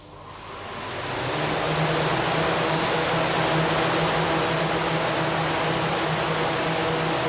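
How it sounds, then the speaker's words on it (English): A broad roaring rush of air from large fans on the Crystal Maze game show swells up over the first second and then holds loud and steady. "Will you start the fans, please?"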